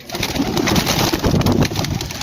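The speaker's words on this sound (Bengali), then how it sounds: "8টি পায়রা ছাড়ছি।" Eight racing pigeons are released at a pigeon tournament, with loud, close cooing and busy wing fluttering throughout.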